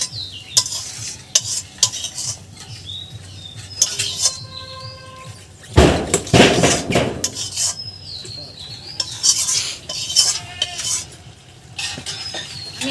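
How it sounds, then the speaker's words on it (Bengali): A spoon stirs and scrapes egg and pointed gourd curry from a pan into a bowl, giving repeated metallic scraping and clinks, a loud clatter midway and faint birdsong in the background, with no talking. "আমি এবার একটা পাত্রে ঢেলে নেব।"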